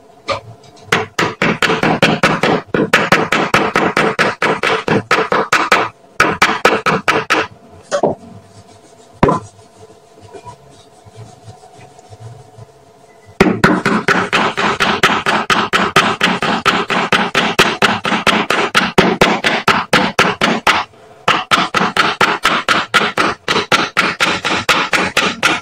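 A chisel carving a wooden dragon, struck in rapid, regular sharp taps in long bursts, a quieter pause with a few isolated knocks in the middle, then the close, loud tapping resumes.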